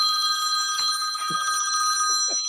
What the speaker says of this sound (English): I got the old school phone ring now.